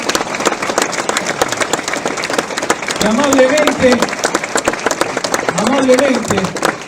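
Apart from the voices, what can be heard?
audience applause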